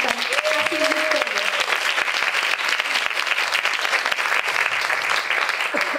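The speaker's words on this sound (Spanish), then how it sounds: "un aplauso para ustedes por estar haciendo esto" Steady, dense audience applause at a celebration of women and girls in science, a full crowd clapping continuously with a brief bit of tonal sound near the start.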